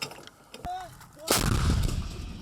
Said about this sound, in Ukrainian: За десяток кілометрів звідси цих бійців прикриває їхня ж артилерія.